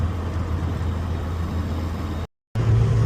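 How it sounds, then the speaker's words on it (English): Morris Minor saloon with a 948cc engine, running smoothly with a steady low hum and drone heard from inside the car, broken by a brief dropout before the engine note resumes. "And the 948, as you can hear, it's a really sweet engine."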